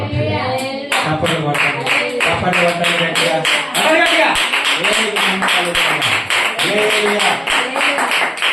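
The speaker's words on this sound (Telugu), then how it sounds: "చప్పట్లు" A church congregation at a Sunday worship service clapping in a fast, steady rhythm, loud and close, with a voice running over the claps throughout.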